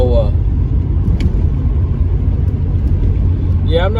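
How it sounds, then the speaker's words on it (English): A 1987 Monte Carlo's engine rumbles low and steady while the car drives along, a continuous deep drone heard close and loud throughout. "as far as the motor goes, it is really running good"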